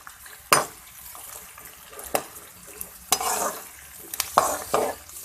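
Two chopped onions frying in a pan toward brown, a low steady sizzle under repeated sharp scrapes and knocks of a spoon stirring against the pan, close and fairly loud.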